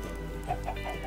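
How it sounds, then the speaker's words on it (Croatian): Chickens in the Minecraft video game, a large flock of about a hundred, cluck steadily in close overlapping calls with no talking. "ovdje ima 100 kokošaka ljudi"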